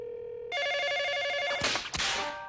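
A cartoon telephone rings with a bright electronic multi-tone trill that starts abruptly and runs steadily, ending in a couple of noisy clattering bursts.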